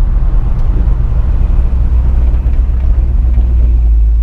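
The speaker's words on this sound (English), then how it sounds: "It's got a 454 in it, so you can definitely hear you coming down the road" A 1978 Chevrolet K10 pickup with a 454 V8 cruising down the road, its engine a loud, steady low rumble that continues without pause and with no voices over it.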